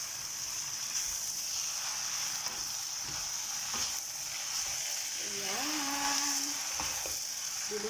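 Vegan, gluten-free lo mein noodles tossed with pechay leaves and spring onion in a hot pan give off a steady sizzle, broken by scraping stirring strokes, with a brief voice-like tone midway.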